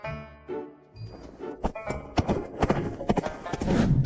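Horse hooves clip-clopping in uneven steps, the first few soft and the later ones louder and quicker, with a low snort or whinny and a short ringing tone in the quiet opening.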